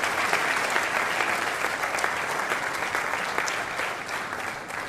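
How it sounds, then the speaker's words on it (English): A townhall audience applauds steadily, a dense, even wash of many hands clapping at moderate distance, sustained for several seconds without voices. "I think they deserve a round of applause definitely for that."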